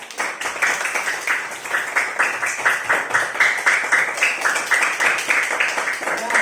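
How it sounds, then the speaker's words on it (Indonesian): Rhythmic group clapping in an elementary classroom, students clapping together in a regular patterned beat, steady and fairly close for several seconds. "tepuk tangan untuk kita semua"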